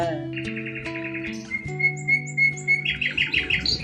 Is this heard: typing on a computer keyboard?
no